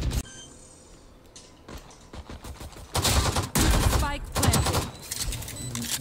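Gunfire in the competitive tactical shooter Project A starts after a quieter stretch, with rapid bursts and sustained automatic fire in the second half, loud and close.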